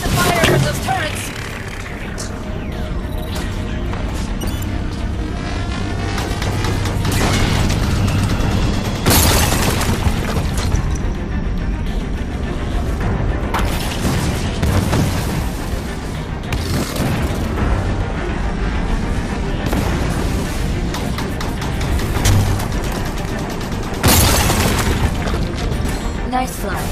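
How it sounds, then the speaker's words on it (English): Turret fire in the Halo 5: Guardians sci-fi shooter, heavy booming blasts and mechanical rumble that repeat through a loud, dense stretch of battle noise, with bursts standing out around the middle and near the end. "Watch the fire from those turrets!"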